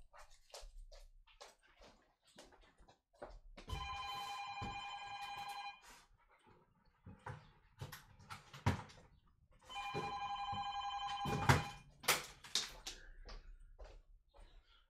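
An unplugged landline telephone rings in two long bursts of electronic bell trills, about two seconds each with a pause between, close and clear, amid scattered knocks and handling noises and a dog's whimpering.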